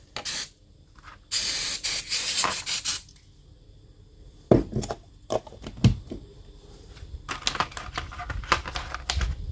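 Aerosol brake cleaner hissing onto a brake caliper in a workshop, in two loud close spray bursts, followed by scattered metallic clicks and taps of parts being handled.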